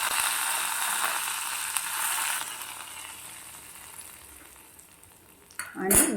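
Steady frying sizzle of beetroot and cabbage fills most of the clip, easing off briefly before a sharp burst of hissing near the end as a hot tempering hits the pan.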